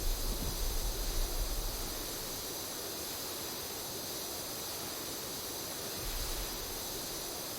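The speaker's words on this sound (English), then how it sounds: "nobody's been lulled to sleep with the sound of white noise" Steady broadband hiss of a pressure washer spraying in PowerWash Simulator, a continuous even rush with no voices.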